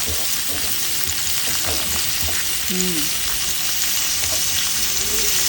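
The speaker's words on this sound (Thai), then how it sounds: "ผัดกับน้ำมันนะคะ" Shallots fry in oil in a pan, a loud, continuous close-up sizzle and crackle that holds steady throughout, with faint stirring movements underneath.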